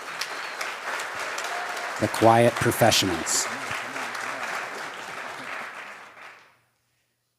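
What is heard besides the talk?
audience applause for the rescue team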